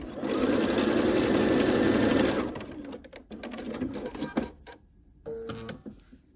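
A sewing machine stitches a quilt block seam in one steady whirring run that stops after a couple of seconds, followed by softer handling and fabric rustle.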